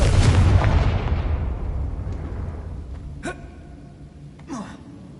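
A Confringo explosion spell goes off in Hogwarts Legacy, a loud deep boom that rumbles and decays over several seconds, followed by a couple of sharp crackling bursts.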